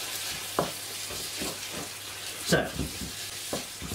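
Beef mince frying for bolognese, a steady close sizzle in a pan with periodic stirring scrapes, and a brief word spoken near the start.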